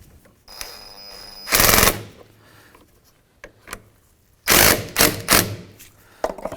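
A ratchet with a 10mm socket tightening the battery terminal on a 2015–2019 Hyundai Sonata, close, loud bursts of rapid clicking in two main runs with quieter ticks between and no talking.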